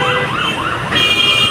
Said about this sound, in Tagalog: Ayan, mga ambulance oh.